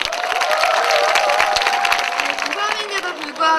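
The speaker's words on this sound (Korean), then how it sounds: "이 장병들을 위해서 큰 박수 부탁드립니다" A crowd of soldiers at a military base entertainment show claps and cheers loudly, with a voice speaking over the applause throughout and tonal music or feedback lines threaded in.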